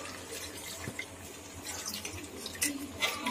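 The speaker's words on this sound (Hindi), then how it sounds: "हल्की आंच पे हम इसमें 1/2 गिलास पानी डालेंगे शीशे का।" Water from half a glass poured into korma masala in a pan over low heat, a soft trickling splash that rises and falls briefly, fairly quiet.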